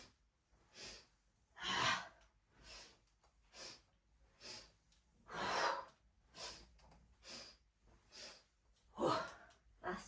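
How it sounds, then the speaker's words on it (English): Rhythmic breathing during a gentle morning exercise routine: a series of forceful inhales and loud, big exhales through the mouth, repeated in bursts about every second or two, close and fairly quiet overall. "And then a big, loud exhale."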